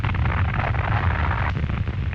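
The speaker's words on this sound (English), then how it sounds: "Now the surface explosion." Surface explosion of a depth charge thrown from a wartime naval vessel hunting a submarine, a continuous heavy rumbling roar holding steady throughout, with no speech.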